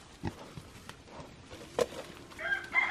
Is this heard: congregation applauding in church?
no